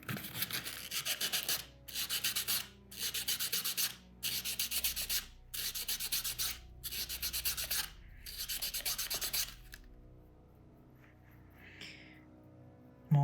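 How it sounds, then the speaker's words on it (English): Sandpaper rubbed back and forth over a threaded lock body to remove burrs, in about seven steady close strokes with brief pauses, then a quieter faint scrape at the end. "I'm going to take a little bit of sandpaper and touch that up."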